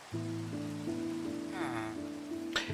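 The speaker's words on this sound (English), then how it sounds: "Oh, now it's raining." In the video game ARK, rain falls as a steady broadband hiss throughout, with sustained musical tones running underneath and a brief sharp burst near the end.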